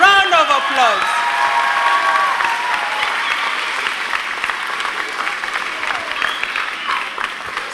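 A concert audience applauds and cheers after young performers at a school music concert, with thick continuous clapping and scattered whoops and shouts, strongest at the start and holding steady, while a voice speaks briefly over the crowd.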